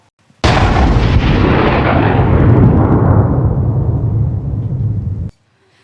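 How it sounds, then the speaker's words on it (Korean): Alcohol bursts into a powerful explosion during a fire-safety drill: one sudden, very loud blast whose roaring rumble fills about five seconds before cutting off. "안에 있는 알코올이 비산하며 강력한 폭발과 함께 화재가 발생하였고"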